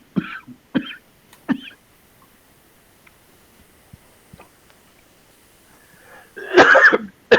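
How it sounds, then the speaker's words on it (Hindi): Three sharp coughs in quick succession, then a long pause with faint ticking, followed by a louder burst of coughing and throat clearing. "खांसी आ रही मुझे आज"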